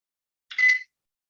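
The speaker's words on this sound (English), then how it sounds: "And now I'm going to pop it in the microwave for 2 minutes." A single short electronic beep from a microwave oven being set for two minutes, clear and isolated in silence.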